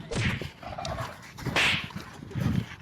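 Dogs fight nearby in bursts of snarls, yelps and sharp barks that rise and fall irregularly, loud and close, with scuffling in between.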